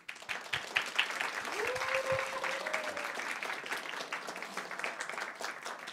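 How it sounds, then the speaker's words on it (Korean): A Baptist church congregation in Yeouido gives sustained applause welcoming the pastor to a Wednesday worship service, dense clapping from many people with a faint sustained tone running briefly underneath. "나오실 때 환영과 또 감사의 마음을 담아서 박수로 모시겠습니다."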